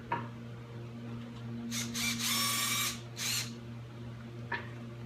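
A power impact gun working on engine bolts during a 408 Cleveland engine teardown: two or three short, sharp bursts of whirring rattle in quick succession, fairly close, over a low steady background hum.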